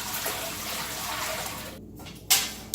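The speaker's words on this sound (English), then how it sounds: "the first thing that we're going to do is add some water to our pot." Water pours steadily into a pressure canner pot in a continuous broadband rush, loud and close, then cuts off briefly before a few short splashes and clunks at the end.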